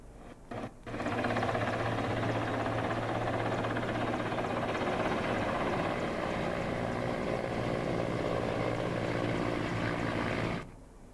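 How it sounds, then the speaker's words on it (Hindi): An Air Force helicopter drops water over a burning forest at Dob Srikot in Uttarakhand, its rotor and engine a steady, continuous drone that sounds sustained and somewhat distant, then cuts off abruptly. "वायुसेना के चॉपर से पानी बरसाया जा रहा है"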